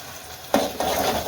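A garlic, green chilli and buttermilk mixture hits a hot pan, two sharp bursts of sizzle followed by a steady frying hiss, close and brief.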